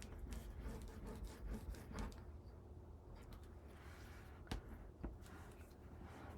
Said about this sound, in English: Now I'm going to take my bone folder and using this blunt tip, just burnish a little bit